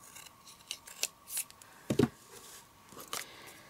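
Scissors cut through a piece of patterned paper for a card project, several quiet crisp snips and rustles spaced irregularly, heard close and alone.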